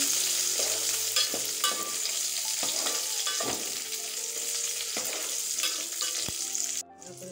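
Spices and ingredients frying in hot ghee for basanti pulao, a steady close hiss of sizzling with frequent clinks and scrapes of a spoon against the pan, ending abruptly.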